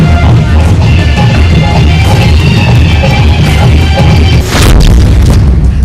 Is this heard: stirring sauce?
no